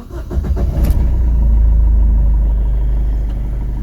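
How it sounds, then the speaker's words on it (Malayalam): A car with a blinking check engine light, switched off and restarted for the fourth time: a brief starter crank catches into a loud, steady low engine rumble that settles into a close idle, with no talking. "ഞാൻ വീണ്ടും വാഹനം ഓഫ് ചെയ്തിട്ട് ഒന്നുകൂടെ സ്റ്റാർട്ട് ചെയ്യാൻ പോവുകയാണ്"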